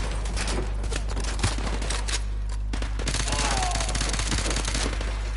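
Sustained full-auto gunfire from the video game Call of Duty Modern Warfare 2 rattles in dense, loud bursts over a constant low hum, with some voice chatter mixed in.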